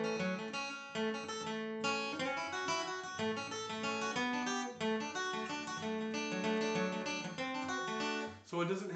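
Guitar solo of Worried Man Blues played in a modern picking style, a steady run of bright plucked notes without the galloping cross-picked feel, filling the clip at close range with no talking.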